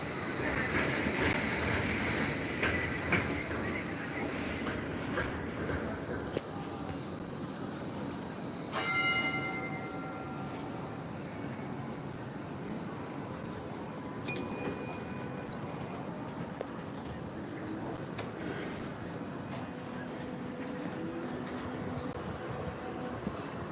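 A tram rumbles steadily along its rails, with broadband rolling noise and a few high metallic squeals from the wheels partway through.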